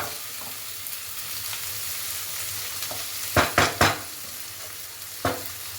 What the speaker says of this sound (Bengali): আর টমেটোটা একটু ভেজে নেবো